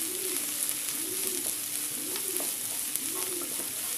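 Chopped onion and green chillies sauté in a pan, a steady sizzle with rhythmic scraping stirs roughly every second, close and even throughout.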